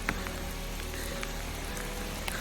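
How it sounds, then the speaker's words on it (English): Rain falls steadily outdoors, making a soft even patter with scattered louder drops hitting a nearby surface, and no one speaks. "but it's raining now"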